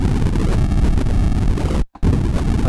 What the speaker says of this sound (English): I've been trying really hard to get fire, and this is kind of what I got.